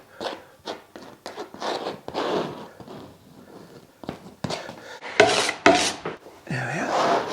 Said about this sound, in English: Trowel it on. Get the coverage going.